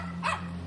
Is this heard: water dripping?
no